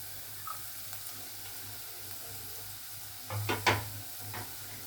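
Carrots tipped into a hot pan for a masala macaroni pasta, giving a soft, low steady sizzle with a brief burst of clatter and stirring near the end.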